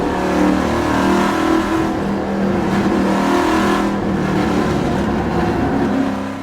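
A Trans Am race car on a Howe chassis built by Fast Auto accelerates at Portland International Raceway, a loud, sustained engine roar that holds steady throughout, heard without any talk.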